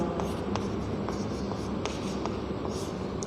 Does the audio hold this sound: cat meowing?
no